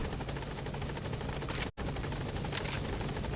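Steady whirring rotor drone of a support helicopter in Metal Gear Solid V: The Phantom Pain, loud and continuous, with a brief dropout in the middle.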